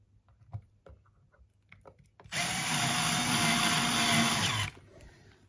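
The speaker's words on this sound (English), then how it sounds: "I'm putting all these screws back in" A power drill drives screws back into a Fender Duo-Sonic guitar during a pickup swap, a few faint taps and clicks first, then one steady, close whirring run of about two seconds that stops abruptly.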